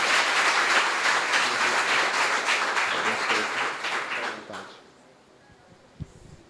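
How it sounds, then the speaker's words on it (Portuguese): A church congregation applauds during a 27th-anniversary celebration service, dense loud clapping that fills the room for several seconds before fading to near quiet, with one brief thump afterward. "Você pode aplaudir ao Senhor."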